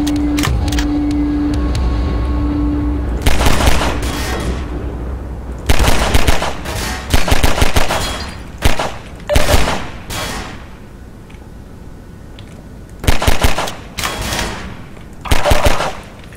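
Weapon fire in Half-Life 2: Episode Two, played through a single-player mod: loud, close bursts of rapid gunshots spaced out by short pauses, after a steady tone at the start.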